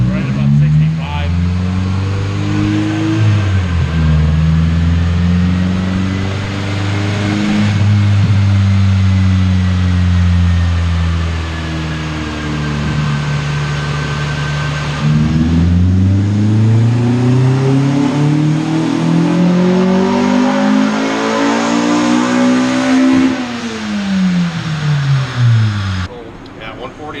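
Honda B20 engine in an all-motor CRV revving hard on a dynamometer, pitch sweeping up through a loud pull, dropping, then climbing again in a second run; a voice speaks faintly beneath the engine roar.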